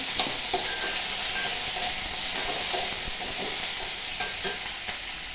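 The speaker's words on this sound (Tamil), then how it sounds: "இப்போது தக்காளி சேர்த்துக்கலாம் அது கொஞ்சம் நேரம் வதங்கட்டும்" Tomatoes and lentils sauté in a pan for a vallarai keerai thuvaiyal, giving a steady, close sizzling hiss with occasional light stirring clicks throughout.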